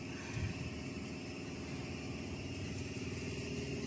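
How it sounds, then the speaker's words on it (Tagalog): The engine of a Caterpillar 428F backhoe with a hard-starting fault idles in a steady low rumble, running continuously and moderately close with no other sounds over it. "Yung motor niya okay naman, gumagana siya."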